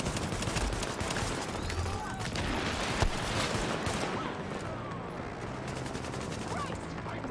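Dense gunfire from The Division game in the Lincoln Tunnel challenge mode, rapid overlapping shots and bursts rattling continuously at moderate level, with a louder crack partway through.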